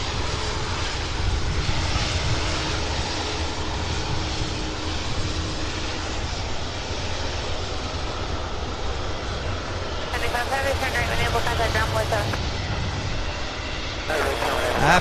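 Aircraft engines roar continuously at UPS Worldport, Louisville SDF airport, a steady loud rumble with a higher whine joining near the end, and no voices over it.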